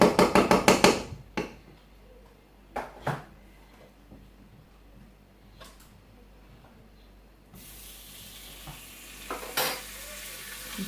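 Olive oil and butter heat in a pan for fried rice, opening with a quick run of loud utensil clatters, then quiet scrapes before a soft, steady sizzle sets in.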